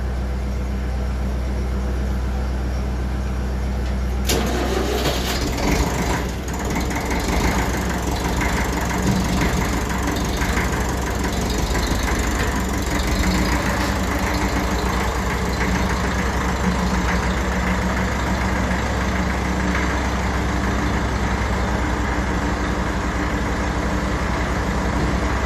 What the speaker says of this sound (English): So I'll start up the diesel and back it back to the pallet.